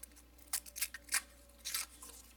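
A mini multi-tool's small blade working at a piece of cord, giving a few quiet, scattered snipping and scraping scratches in short bursts, close by and alone.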